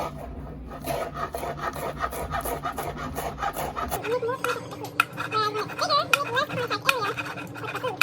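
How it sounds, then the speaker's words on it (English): A knife finely chops fresh dill on a cutting board in quick, rhythmic scraping strokes, close and fairly quiet, with a voice heard faintly at times. "So let's cut the dill nicely and finely."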